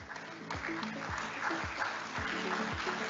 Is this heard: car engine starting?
no